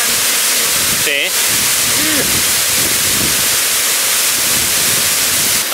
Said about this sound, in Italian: Ci sarà un po' di casino tra vento e rumore dell'acqua